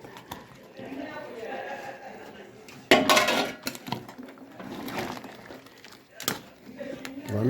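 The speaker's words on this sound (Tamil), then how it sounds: "மல்லி இலை போட்டு ஒரு கிண்டு கிண்டுங்க" A ladle stirs crab curry with coriander leaves in a metal pot, giving clanks and scraping knocks in short bursts under someone talking throughout.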